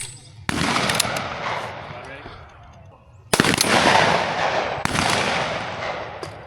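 Browning Auto-5 shotgun firing at a trap shooting range, sharp loud blasts with a long rolling echo after each, three shots spaced over several seconds, outdoors.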